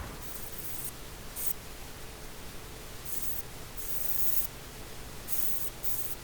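A spray gun lays a thick coat of paint with fast hardener onto a Land Rover roof, the hiss of the spray coming in several short, repeated bursts over a quiet background.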